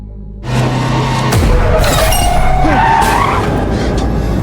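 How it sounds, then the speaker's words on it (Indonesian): A car swerving and skidding in a horror film scene, loud tire screech and rushing engine noise running nearly continuously after a brief quieter start, with squealing tones rising and falling. "Sehingga Darwin mengendarai mobil dengan oleng guys, dan hampir saja mereka mengalami kecelakaan"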